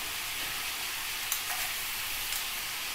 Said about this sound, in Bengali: একটু হলুদ দিলাম, একটু জিরে গুঁড়ো দিয়ে কষিয়ে নেব